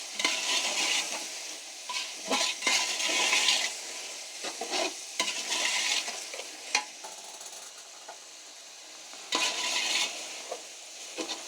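Beef sizzles and fries in a pot for a beef yakhni pulao while it is stirred, giving a steady loud crackle broken by repeated scraping stirs. The sound is close, with no voices.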